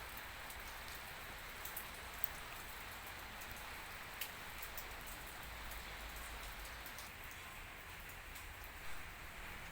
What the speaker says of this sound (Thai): น่าจะตกทั่วประเทศนะครับฝนวันนี้พายุเข้านะครับ